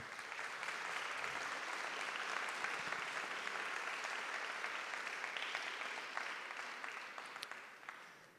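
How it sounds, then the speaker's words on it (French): Sustained applause from a large audience at a corporate event, dense and steady throughout, fading slightly at the end. "J'aimerais bien qu'on applaudisse"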